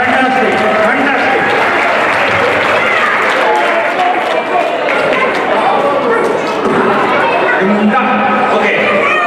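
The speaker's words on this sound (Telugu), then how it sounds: "these guys needs a big round of applause" A large audience at a Sankranti community celebration gives a sustained, dense round of applause mixed with crowd chatter and cheering, loud and continuous throughout.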